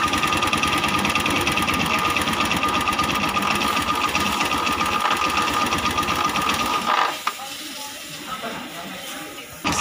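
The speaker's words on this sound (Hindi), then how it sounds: "अब इसको थोड़ा और ओपन करेंगे, RPM से बढ़ा रहे हैं," A TVS Sport motorcycle engine runs loud and steady with the throttle held open, then the revs drop sharply near the end, leaving a quieter, rougher idle.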